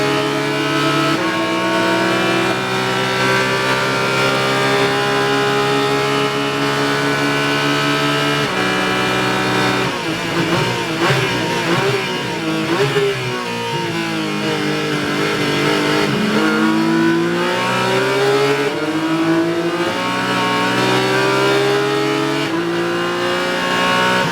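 GT4 race cars, a Mercedes and a Porsche, race at VIR. An engine roars continuously and close by, rising and falling through gear changes, with a wavering downshift passage in the middle.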